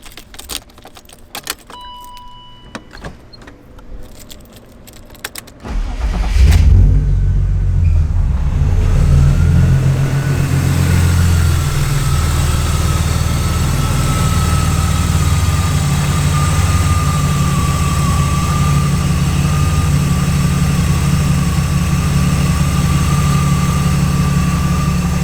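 An engine is test fired just after an oil and filter change: a loud low rumble starts suddenly after some quiet handling noise with a brief jangle of keys, then settles into a steady, even idle that runs on close by.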